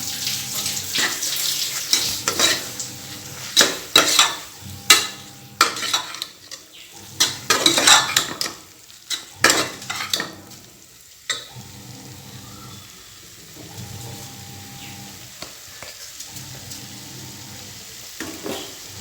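Spoon scraping and stirring spiced mushrooms with biryani powder in a pan with soft sizzling, clanks of utensil against metal coming in bursts, then quieter frying.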